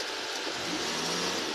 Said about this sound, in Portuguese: Ele passar com o carro ali.